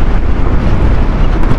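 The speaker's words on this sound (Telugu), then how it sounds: "ఆపోజిట్లో గాలి వీస్తుంది" A strong headwind roars and buffets against the microphone while riding off-road on Lachungla pass on the Leh to Manali route, loud and continuous with no pauses.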